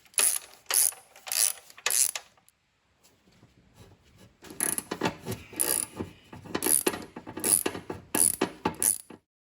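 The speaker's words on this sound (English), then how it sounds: "I've got a 9/16 ratchet wrench on this just to make it a little easier" A 9/16 ratchet wrench clicks in quick bursts while loosening bolts on an Oliver 550 tractor, two close sets of rapid ratcheting separated by a brief pause with soft metallic rubbing.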